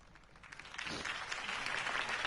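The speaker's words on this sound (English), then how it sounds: "If only Mr. Wayne, my campaign's largest backer, could have heard that applause" Crowd applause after a city campaign speech, beginning softly and swelling quickly into a dense, sustained clapping that carries to the end, fairly distant with no voices over it.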